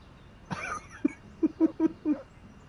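A dog in the video game Syberia gives a string of short, high whimpering yelps, about five in quick succession, faint and close, with a brief breathy sound just before them.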